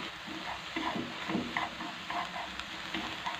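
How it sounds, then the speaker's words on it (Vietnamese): Small shrimp being stir-fried in a pan as their released juices cook off, a steady close sizzle with scraping stirring strokes, no voices. "Mình sẽ xào rang đều một lát cho cái nước này nó cạn."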